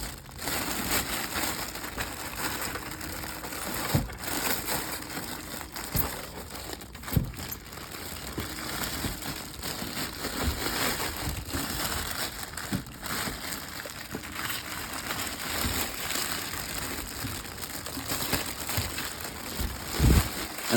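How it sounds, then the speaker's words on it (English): Plastic wrapping being pulled and crinkled off a Yamaha YBL-835D bass trombone, a steady close crackling and crumpling for the whole stretch with a few sharper rustles and thumps, no talking. "I might actually see if I can take some of the wrapping off here right away"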